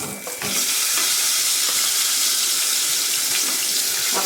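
Chopped onions hit hot oil in a pan while mochai kulambu, a Tamil lima bean curry, is cooked, giving a loud, steady, close sizzle and hiss that runs unbroken with no talk.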